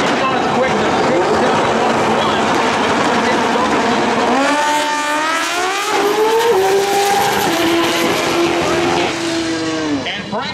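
A pro street drag race car roars down the track during a qualifying round. The loud engine note climbs and sweeps in pitch, then eases off. A commentator talks over it throughout.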